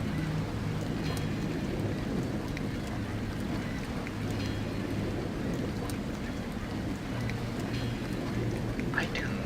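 Steady rainfall hisses across the docks of Liberty Island in the video game Deus Ex Revision, a dense, constant wash of drops with a low rumbling bed and faint voice in the background.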